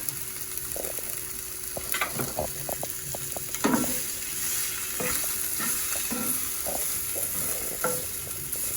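Vegetables sauté in a hot pan with a constant soft sizzle, broken by repeated scraping and clacking as a utensil stirs and tosses them, close by and without any talking.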